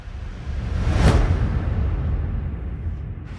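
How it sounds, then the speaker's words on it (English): A single broad whoosh swells and peaks about a second in, then trails off into a steady low rumble, with no voices. "More whoosh."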